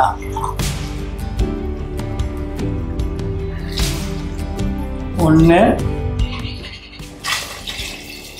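Water is poured into rice in a cooking pot for mutton biryani, giving a short rising gurgle and splashes, while people talk over it.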